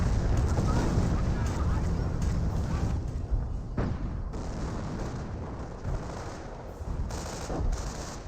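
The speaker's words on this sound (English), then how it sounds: "Artillery now raining on in as well." Artillery shells and machine-gun fire pound through a Company of Heroes battle, with dense overlapping blasts and rattling bursts that are loud at first and ease somewhat toward the end, carrying no speech.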